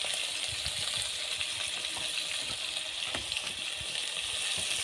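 Shrimp, golden onions and green chillies fry on a clay stove, a steady bright sizzle close by with faint crackles and no talk.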